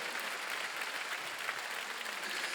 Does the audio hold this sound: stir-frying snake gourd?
no